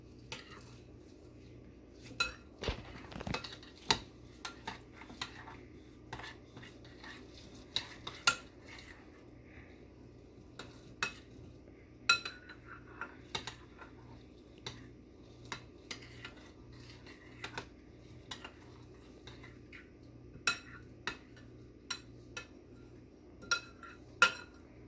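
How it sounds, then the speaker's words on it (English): Birdseed and gelatin mixture gets stirred in a bowl with a utensil, producing repeated soft scraping and sharp clinks against the bowl at an uneven pace, fairly quiet and close, with no talking. "mix it up with the gelatin so we get all the birdseed covered in that gelatin"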